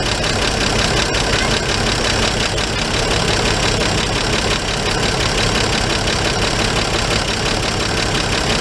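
A steady, loud engine of a 1941 G-506 truck runs continuously with a rough, knocking idle, unbroken and close for the whole stretch.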